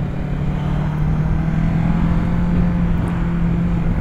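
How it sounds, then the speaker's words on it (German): A Kawasaki Z650 motorcycle with 48 PS pulls away on a country road, its engine a steady, close droning hum that swells slightly after the first second and holds evenly. "wir sind wieder zurück hier mit der Z650 mit 48 PS und wir machen noch mal eine kleine Fahrt auf der Landstraße"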